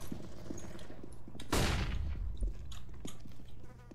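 Gunfire in the video game CS:GO crackles over a constant background hum, with a loud, sharp burst midway and scattered fainter shots around it.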